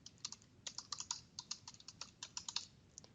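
A computer keyboard clatters as a web domain is typed, a run of quick, light key clicks in uneven bursts, close up and fairly quiet against faint room hiss.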